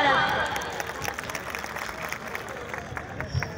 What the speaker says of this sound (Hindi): जोरदार तालियों के साथ स्वागत किया